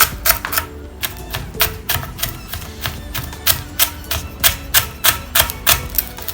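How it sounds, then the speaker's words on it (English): Lemongrass being finely chopped with a knife on a board, a close series of sharp, evenly spaced chops speeding into a steady rapid rhythm, alone without talk. "and for the lemongrass, then finely chop."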